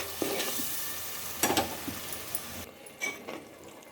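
Masala paste for stuffed brinjal curry (guthi vankaya kura) frying on a low flame in oil, with a steady close sizzle and a few scraping stirs of a spoon against the pan.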